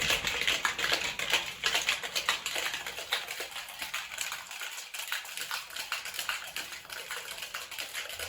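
A pineapple jalapeño margarita shaken hard with ice in a cocktail shaker, giving a close, rapid, steady rattle of clattering taps with no voices.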